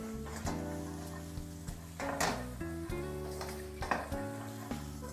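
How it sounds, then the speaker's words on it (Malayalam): Beans, capsicum and carrots sauté in a pan for Schezwan fried rice, giving a soft steady sizzle with occasional stirring scrapes over a low humming background. "ക്യാരറ്റും കൂടി ഇട്ട് കൊടുക്കാം. അപ്പോൾ ഇതേപോലെ നമുക്ക് ഒന്ന് സോട്ട് ചെയ്തെടുക്കാം."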